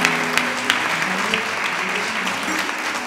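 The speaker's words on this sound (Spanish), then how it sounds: "Un aplauso para ella." Sustained applause for María López from the audience at a flamenco show, dense and steady clapping with a few sharper claps and faint voices or tones beneath.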